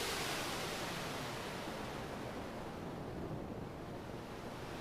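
Relaxing ocean waves produced by the ALT analog soundscape synthesizer: a steady, full wash of surf-like noise that swells gently and holds without break, heard alone.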